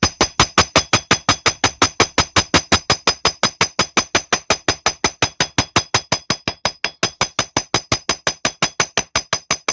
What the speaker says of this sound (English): I'm going to hammer the spirals nice and flat.